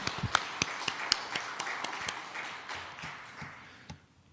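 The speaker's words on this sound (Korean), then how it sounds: "우리 같이 한번 박수를 우리 교회 청년들에게 한번 보내드립시다." A church congregation applauding the church's youth, heard as sparse individual claps that thicken into a soft, reverberant round of applause and then fade out, with no speech over it.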